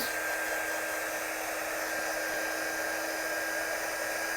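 A dryer blows steadily on a freshly inked stamp, a constant close whirring rush of air with a thin whine, unbroken for several seconds and with no talk over it.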